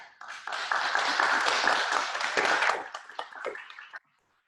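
Applause from an audience at a village council meeting for inclusion and community, a full round of clapping that holds steady, then thins to a few scattered claps before stopping abruptly.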